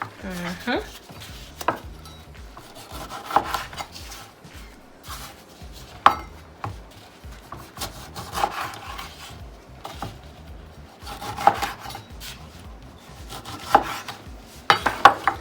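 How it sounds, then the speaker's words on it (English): Knife chopping lemons into quarters on a board for a Cajun turkey brine, a series of sharp, irregular cutting knocks close by with scraping between strokes, no talking. "we're gonna cut our lemons"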